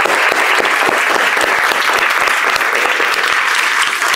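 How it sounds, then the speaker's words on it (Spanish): Audience at an academic design seminar giving dense, sustained applause for a lecturer, loud and close, with no talk over it. "Por favor, un aplauso para el maestro Miguel."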